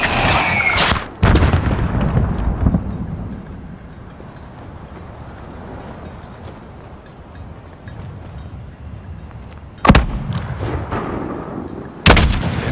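Mortar and gunshot fire in Call of Duty: Modern Warfare (2019) on a sniper mission: a loud blast opens, then a long low rumble, with further sharp shots cracking near the end.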